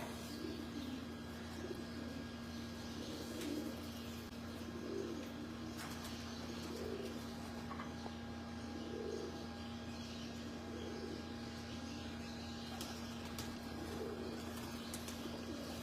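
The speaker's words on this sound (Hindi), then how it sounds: "ये कबूतर का बच्चा है।" Soft pigeon coos repeat at a steady rhythm from a rooftop in Lahore, faint beneath a constant low electrical hum and background noise.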